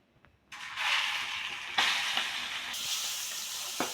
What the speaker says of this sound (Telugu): రొయ్యలు అయితే ఇలా ఫ్రై అయిపోయినాయి కదా